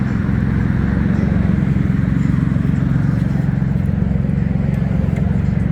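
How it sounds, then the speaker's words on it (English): A Can-Am Ryker three-wheeled motorcycle's engine cranks steadily without catching, a close, continuous churning drone of the starter that never fires into a running idle. "It's cranking, but it won't start."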